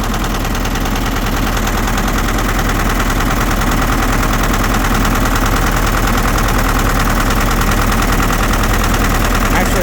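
A Case 580B backhoe diesel engine with heavy blow-by idles loudly and steadily, a constant low rumble with mechanical knocking and vibration throughout.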